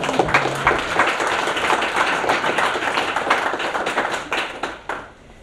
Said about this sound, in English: A big applause to Sivuvalo.